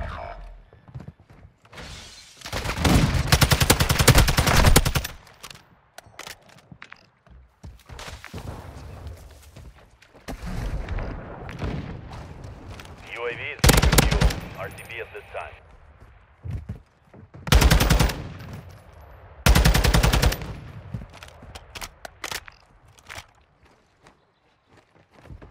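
Semi-auto LMG fire in a multiplayer shooter, several loud, dense bursts of rapid shots separated by quieter stretches of footsteps and movement, with a player talking in between.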